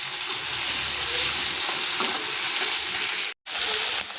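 Sliced medium-size onions sauté to golden brown in a pan, giving a steady, close, loud sizzle and crackle with faint stirring scrapes and one brief dropout near the end.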